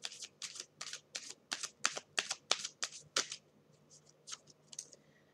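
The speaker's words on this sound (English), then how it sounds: "let me pull this last card on that one." Oracle deck cards are shuffled close up in a rapid series of crisp riffling bursts, around a dozen quick flutters in a row that taper off into lighter taps.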